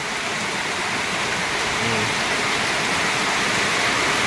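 Heavy rain pours steadily into a fishpond, a dense, constant wash of splashing noise filling the whole clip with no pauses.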